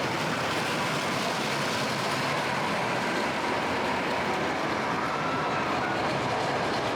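A roller coaster at Knott's Berry Farm comes off its second lift hill with a loud, steady rushing roar and rumble of wheels on track that holds constant throughout, with no voices.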